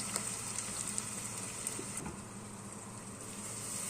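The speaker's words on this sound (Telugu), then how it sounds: "ఆయిల్ వేడెక్కిన తర్వాత మనం కట్ చేసి పెట్టుకున్న ఉల్లిపాయ వేసుకోవాలి. ఉల్లిపాయ వేస్తేనే అలా సుర్రు అనాలి." Chopped onion goes into hot oil for a Telugu prawn and raw mango curry, giving a steady, faint, close sizzle with soft crackles and no talking.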